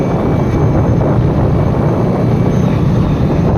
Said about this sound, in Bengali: ওই দেখো হেলিকপ্টার ওখানে দেখা যাচ্ছে